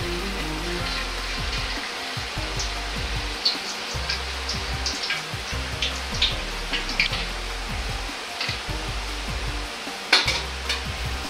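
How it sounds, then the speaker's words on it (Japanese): Chunks of taro deep-frying in hot oil, a soft continuous bubbling sizzle scattered with small pops and crackles, fairly quiet and close with no talk. "じっくりと揚げていきます。"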